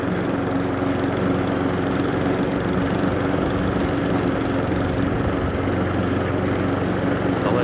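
A Honda lawn mower fitted with new Wyevee wheels runs steadily at close range, its engine a loud, constant drone throughout with no talking.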